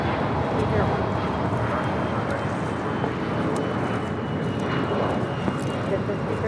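An airliner on the runway at LAX gives off a continuous broad engine roar at moderate distance, steady throughout, with a voice talking over it.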